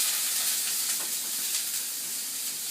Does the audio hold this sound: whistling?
no